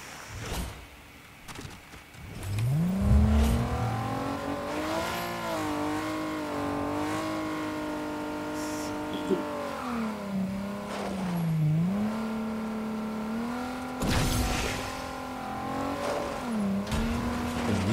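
A car in Fortnite revs and accelerates, its engine tone rising and falling through gear-like swells over about eighteen seconds, loud and close, with a brief crunch or impact midway.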